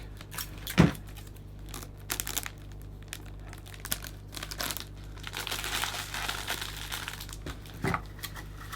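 Cellophane wrap around a hand-tied Christmas bouquet crinkles and rustles close by in irregular bursts, with a few sharper crackles as the edges are gently teased.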